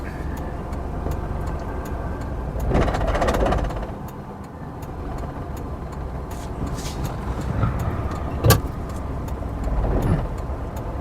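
A Maruti Alto car climbs uphill in first gear with the AC running, its engine droning steadily and fairly loud, with a couple of surges and a sharp click partway through.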